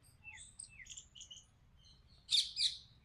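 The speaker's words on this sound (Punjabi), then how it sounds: "ਕਿੱਥੇ ਗਏ ਸਾਡੇ ਇਹ ਤੋਤੇ ਸਾਡੀਆਂ ਚਿੜੀਆਂ" Several bright, high chirps and tweets from parrots and sparrows, scattered across the clip, with two louder, closer calls near the end over a low background hum.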